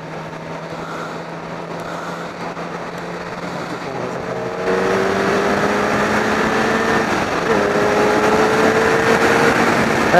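A 2012 Kawasaki ZX-10R sport bike with a stock exhaust drones along while being ridden, a fairly quiet steady engine note that climbs in pitch and steps up in loudness partway through, with wind rush underneath.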